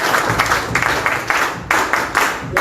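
Applause from an audience at a political gathering on measures for small businesses, a steady round of loud clapping with uneven surges, heard alone without voices.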